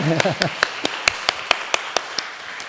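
A church congregation at a Sunday worship service breaks into rhythmic unison clapping, about a dozen sharp claps at a steady pace, with a voice briefly heard at the start.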